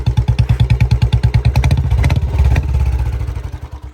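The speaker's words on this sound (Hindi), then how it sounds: "ये भाई इसकी कुछ आवाज़ है जो कि सलेंसर, ये एक तरीके से इलीगल है।" A Royal Enfield Standard motorcycle fitted with an aftermarket silencer idles on its stand, giving a loud, close, rhythmic thump. The beat quickens as it revs briefly, then settles back toward a lumpy idle.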